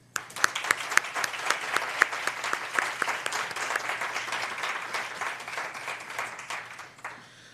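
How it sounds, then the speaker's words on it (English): An audience at a Black History Month celebration in Delaware County claps for honorees, with steady close applause that thins out toward the end. "Once again, may we give them a hand."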